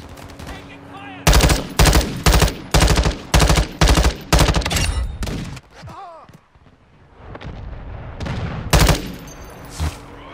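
Loud bursts of automatic gunfire in Modern Warfare 2 ring out in a rapid sequence of about eight evenly spaced heavy volleys, then a brief lull with a shout, followed by more scattered shots and a final burst.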